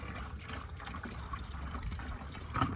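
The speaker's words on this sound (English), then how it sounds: "all I'm doing is filling it with water from the original source" Water from a house spigot running into a pressure washer chemical injector, a continuous close splashing and trickling fill with a slight gurgle near the end.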